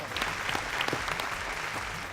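A crowd at a dance performance claps loudly and continuously, a dense, even burst of applause sustained throughout, with voices faintly mixed in.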